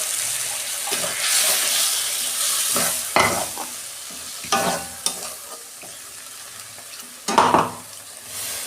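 Mustard-poppy paste spatters in hot oil alongside fried okra for a vegetarian curry, a steady close sizzle broken by several sharp scraping stirs of the pan.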